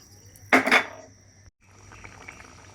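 A short splash of water poured into a pan of white chickpea curry with ground masala, loud and close, then a low simmering hiss.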